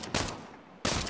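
Gunfire in Saints Row rings out in two sharp bursts of shots, one short near the start and a longer one at the end, separated by a quieter gap, loud and close with no talk.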